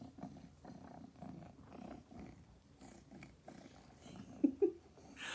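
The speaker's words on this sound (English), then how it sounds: "He's purring so loud." A cat purring softly up close, a low rhythmic rumble with steady pulses, joined near the end by a couple of brief louder sounds.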